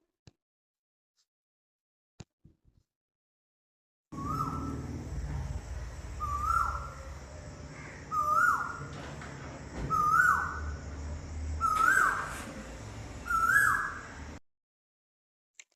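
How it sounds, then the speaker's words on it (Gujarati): An Asian koel, a cuckoo, calls five times in a steady series of rising whistled notes, fairly clear over a low background hum. "પછી છે કોયલ. હિન્દીમાં તેને કોયલ કહેવાય છે. તો ચાલો એનો અવાજ સાંભળીએ."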